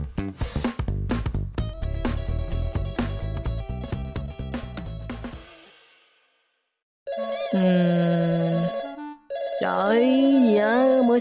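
Phone ringtone from the Mini World video game, a bright chiming melody that rings for several seconds and then stops, followed by voice-like tonal sounds.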